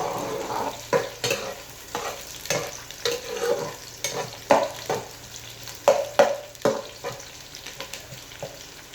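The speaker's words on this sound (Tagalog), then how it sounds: "lagyan na natin ng garlic may tira pang ano mekos mekos ulit" Adobo being stirred in a pan as garlic fries, with repeated scraping spoon strokes over a soft steady sizzle and no talking.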